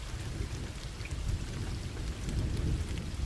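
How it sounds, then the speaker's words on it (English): Steady heavy rain pours with low rumbling thunder underneath, a continuous dense wash of sound with no voices. "The rain did not stop."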